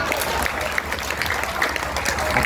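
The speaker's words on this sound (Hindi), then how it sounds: "और मेरा इनसे भी निवेदन है, तालियां बजाएं" Steady applause from a seated audience at a Hindi poetry recital in Lucknow, a dense continuous patter of many hands at moderate level filling the whole stretch, with faint crowd murmur beneath.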